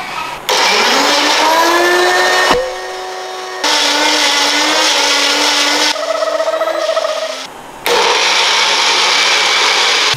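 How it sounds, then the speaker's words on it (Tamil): A mixer grinder runs in loud whirring bursts, pausing and restarting several times with shifting pitch as the load changes, close and without talk. "பார்த்தீங்களா பேச்சுலர்ஸோட மிக்ஸி"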